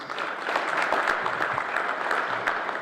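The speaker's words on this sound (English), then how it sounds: "please give him another round of applause" A conference audience at a regional gathering gives a speaker another round of applause, continuous moderate clapping from many people at a steady level throughout.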